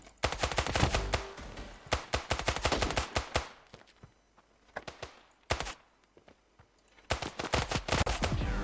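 Rapid bursts of gunfire and single shots in the mobile shooter game Standoff 2 during a 2v2 match, loud and clustered with short quiet gaps between volleys.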